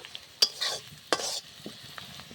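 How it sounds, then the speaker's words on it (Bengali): Onions fry in a pan for a South Indian duck Chettinad dish, with a quiet sizzle broken by a few sharp bursts of stirring and scraping, and no voices. "দেখুন পেঁয়াজটা লাল লাল করে ভাজা হয়ে গেল"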